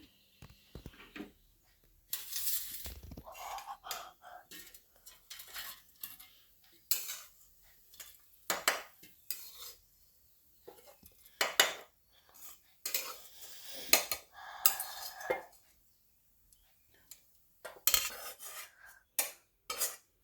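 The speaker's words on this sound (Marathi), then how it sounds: "आता हे भाजलेलं खोबरं आपण याच्यात परत काढून घेऊयात." Roasted grated coconut scooped out of a pan into a bowl for coconut burfi, a series of quiet scrapes and clinks of a spoon against metal in uneven bursts with pauses between.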